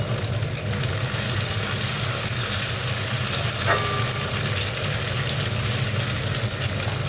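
Tomato frying in a hot pan gives a steady, dense sizzle that holds close and even throughout, with one brief faint clink near the middle.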